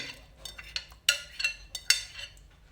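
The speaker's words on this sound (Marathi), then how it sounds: "त्याच्यामध्ये आपण मेरिनेट केलेल्या ज्या भाज्या आहेत दह्यामध्ये त्या घालून घेऊया" Marinated vegetables in curd being added to a fried masala gravy in a pan, giving a few close, sharp clinks and clatters of a utensil against cookware amid soft stirring.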